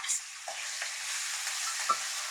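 Green chillies fry in a pan of oil for an amla chutney, giving a continuous close hiss and sizzle with occasional sharper spits and pops, and no voices.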